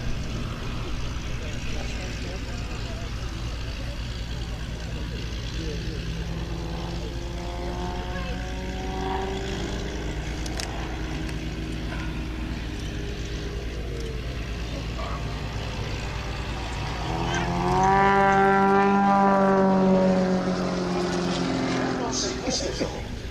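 Propeller aircraft coming in for a formation landing at Old Warden, a steady engine drone throughout that swells louder and nearer toward the end, with a voice speaking over it.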